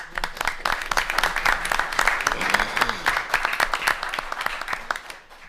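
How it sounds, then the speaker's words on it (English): Audience applause at a city council meeting in Waterville, Ohio: a steady patter of hand claps across the room, moderately loud and sustained for several seconds, with some voices mixed in. "Let's give him a round of applause."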